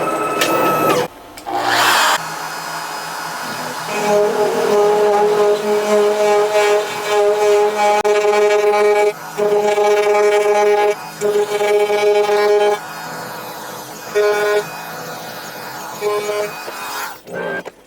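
A CNC router on an Onefinity machine, fitted with a 1/4 inch bit, cuts a 1-inch square into a PVC cap. The spindle gives a loud, steady whine with layered tones and brief pauses between passes.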